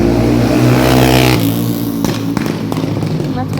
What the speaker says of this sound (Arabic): ما تخافيش ده صوت الموتوسيكل